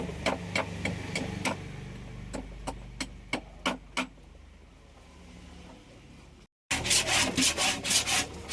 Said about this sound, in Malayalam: ഏകദേശം ചെത്തിക്കഴിഞ്ഞാൽ പിന്നെ അരം കൊണ്ട് രാഗി മിനുക്കും